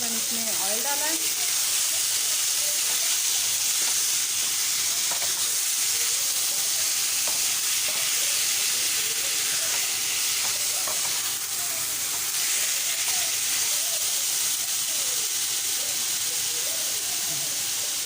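Chicken drops into hot oil in a pan and sizzles with a continuous bright hiss, steady and close for the whole stretch, with faint stirring clicks and a brief voice at the start.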